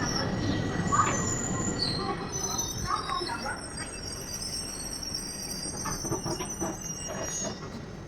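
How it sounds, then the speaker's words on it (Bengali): Riding aboard a special express passenger train as it pulls out of a station, a steady rumble and rattle of wagons with high wheel squeals over it, close and continuous. "ট্রেন কিন্তু ছেড়ে দিল ইতিমধ্যে"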